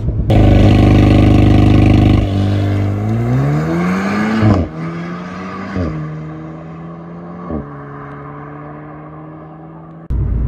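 Loud car engine revving hard and accelerating through the gears on the road, with rising pitch sweeps broken by several sharp gear-change drops, no talk over it.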